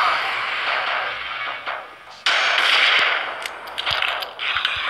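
Shotgun fire in the video game Dead Effect, heard as loud, dense bursts of blasts and clangs crowded into a few seconds, with no speech.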